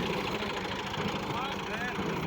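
A tractor pulling a 2021-model maize planting machine drives across a field, its engine droning steadily and loud throughout, with a faint whine rising near the end.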